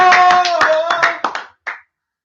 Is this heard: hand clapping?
yes